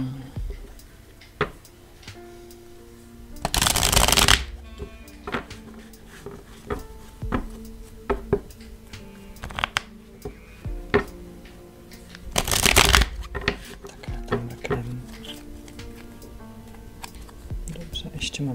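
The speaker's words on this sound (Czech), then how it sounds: "Já si tady budu chvilinku míchat karty" Tarot cards shuffled by hand during a card reading, in two loud riffling bursts with softer tapping and card handling between them, close and otherwise quiet.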